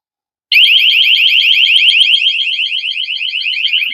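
An Airthereal water leak detector alarm sounds after its sensor gets wet, a loud, continuous rapidly pulsing electronic tone that starts abruptly after a short silence and keeps going without a break.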